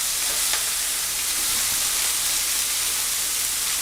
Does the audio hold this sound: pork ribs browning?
yes